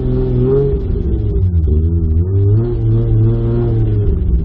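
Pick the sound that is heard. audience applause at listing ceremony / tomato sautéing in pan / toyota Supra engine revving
toyota Supra engine revving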